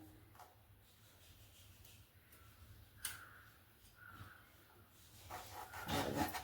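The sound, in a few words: knife cutting potato into thick fries on board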